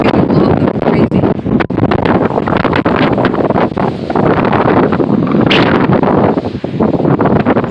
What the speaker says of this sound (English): this is like the more windy part of the storm hitting us.